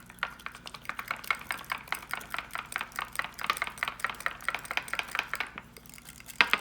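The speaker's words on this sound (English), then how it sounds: "And I'm gonna mix them together about, you know, equal parts" Mayonnaise and sour cream stirred together in a bowl for dressed eggs, a steady run of quick, close spoon-against-bowl scrapes and clicks at an even rhythm, with no talking.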